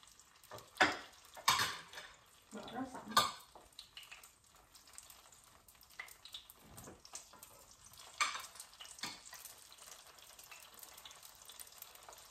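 Food sizzles softly in a frying pan while utensils scrape and clink against it, stirring with a few louder bursts early on, then fading to a quiet, steady hiss.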